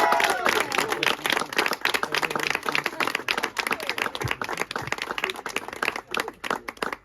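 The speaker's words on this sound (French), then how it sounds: "je vous invite à applaudir les nouveaux mariés" Wedding guests clap for the newlyweds at a reception, a lively mix of close individual claps and broader applause that stays strong, then thins slightly and grows more scattered toward the end, with no talk over it.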